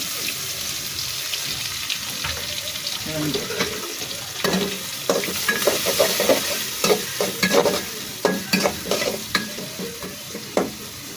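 Chopped onion and green chilli sizzle steadily in a pan for a Bengali hilsa and spiny gourd curry, with frequent close scraping and stirring clicks from a spatula growing busier toward the end, no talk.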